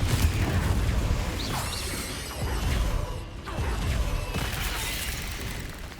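The Confringo spell cast in the video game Hogwarts Legacy: whooshing casts and sharp blasting bursts with mechanical clatter, loud and close over continuous battle noise.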